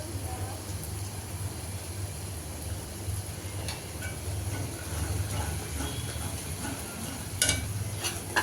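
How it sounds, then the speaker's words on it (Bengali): Onions frying in oil left over from frying fish, giving a steady, close sizzle and hiss with occasional light stirring clatters, no speech present. "এখনই তো মাছটা ভাজার পর ওই তেলে পেঁয়াজ ভেজে নিচ্ছি।"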